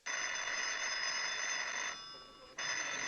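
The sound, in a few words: telephone ringing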